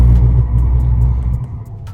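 Skoda Octavia RS driving on a race track, a loud deep engine rumble close by that eases off toward the end.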